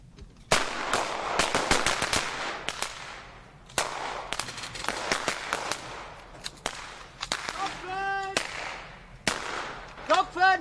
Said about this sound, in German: Beim Training wird nur mit Übungsmunition geschossen.